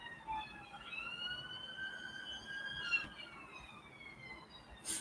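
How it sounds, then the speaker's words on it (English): A wailing emergency siren sounds outside at a distance, its rising and falling tones sweeping steadily through the whole stretch over a low background rumble. "You hear the sirens now?"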